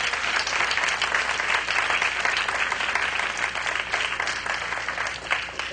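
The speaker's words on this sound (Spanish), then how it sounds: "Alguien le da un aplauso al Rey de Gloria." Sustained applause from a large church congregation, steady and loud throughout, with no talking over it.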